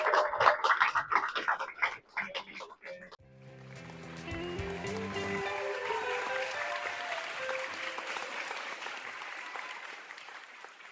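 Audience applause at an awards ceremony for an international painting exhibition, broad sustained clapping from a crowd rising after brief speech and holding steady for several seconds.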